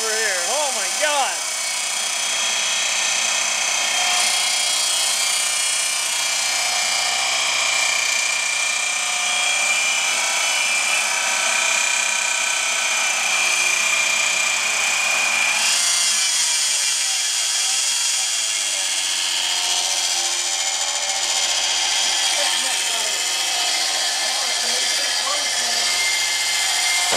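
A Dodge Daytona IROC with a newly installed engine runs loudly and steadily at close range, a constant dense roar with faint voices underneath.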